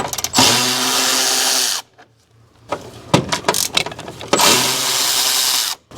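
A power tool whirs in loud, sustained bursts removing 10mm bolts from a Toyota Sienna 3.5L V6 air intake, with a pause of clicks and rattling in between before a second long run.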